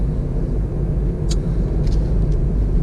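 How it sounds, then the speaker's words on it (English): A car drives slowly around a tight bend on a road, its steady engine rumble and road noise continuous and close, with a few faint high clicks over the low drone. "I'm just going to bring the car around the corner, taking our time."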